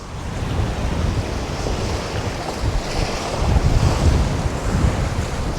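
Wild sea waves crash over a brick seawall at Cha-am, Thailand, a loud continuous roaring surge that swells and recedes, with heavy wind buffeting the microphone and no speech.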